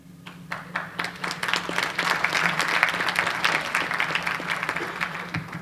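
Audience applause during a speech at a francophone press gathering, many hands clapping in a crisp, dense patter that builds quickly and holds steady, with a low hum underneath.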